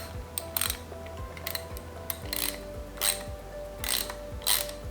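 A ratchet clicks in short rapid bursts as it drives a thread chaser back and forth along bolt threads, with no vise holding the work, the pawl chatter starting and stopping in a steady rhythm, close and fairly quiet.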